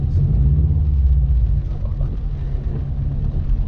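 Subaru Impreza WRX STI (2009) with a 2.5-litre 300 hp flat-four boxer engine, heard from inside as a steady, loud low rumble that eases slightly partway through, with no talk.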